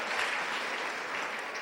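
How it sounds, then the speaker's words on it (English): A seated audience at a stage event in Jaipur gives sustained, moderately loud applause to welcome a guest. "with a huge round of applause, welcome the timeless diva, Miss Dimple."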